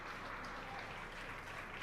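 Applause and cheering fill the room at SpaceX Mission Control after a Falcon 9 booster lands from its first trip to space, a steady, dense wash of clapping that holds for the whole stretch.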